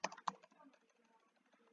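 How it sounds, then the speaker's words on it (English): Fingers tap a computer keyboard in a quick, uneven burst of close, crisp keystrokes, with a couple of louder hits at the start and lighter clicks trailing off, no voices. "Excuse my terrible typing."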